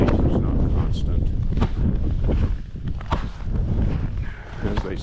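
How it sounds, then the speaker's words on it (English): Gusty, intermittent December wind in North Dakota buffets the microphone in rough, rumbling bursts that swell and ease off, with faint rustling and scattered knocks underneath. "It is kind of windy. Intermittently, it's not constant."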